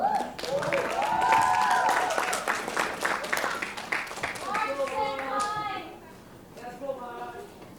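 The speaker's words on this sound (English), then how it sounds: "Please give March a round of applause." Audience applause greets a contestant at a 2021 high school English speech competition, scattered claps running under a loud, pitched voice over background music before thinning out.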